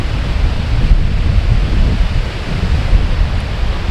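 Broadband rushing water runs steadily beside a riverside campsite at Brunet Island State Park in Cornell, Wisconsin, a constant near wash with no breaks and no voices.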